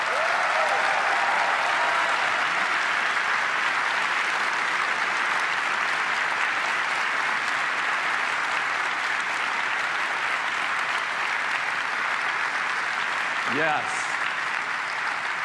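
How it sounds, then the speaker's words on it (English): An audience at the Apple WWDC 2019 keynote applauds steadily and loudly for a long stretch, with a brief spoken word near the end. "Let's give them a round of applause."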